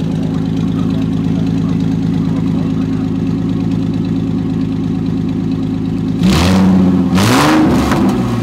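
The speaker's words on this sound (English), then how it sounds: "I'm gonna rev it. Stay back there." A Ford Mustang with a newly installed exhaust idles with a low, steady rumble, then is revved twice in quick succession, each rev a loud, rising roar that falls back toward idle.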